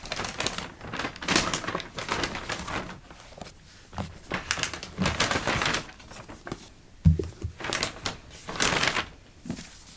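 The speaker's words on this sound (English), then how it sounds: "So enjoy the crinkling sounds." Crinkly plastic bag wrapping around books being handled, heard as irregular bursts of rustling and crackling, close and fairly quiet, with no talking.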